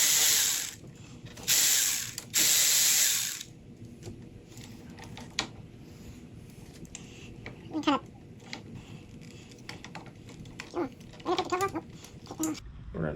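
Ratchet turning Allen head bolts on the clutch perch mount of a 2021 Harley-Davidson Road Glide Limited, heard as sparse metallic clicks after a few loud hissing bursts, in a quiet garage.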